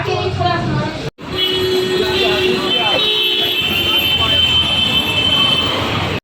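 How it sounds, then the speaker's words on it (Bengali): Steady rumble and rattle inside a moving train carriage, with a high whine and faint background voices, continuous and fairly loud. "আমরা আসছি ট্রেনে করে ট্রেনে আছি"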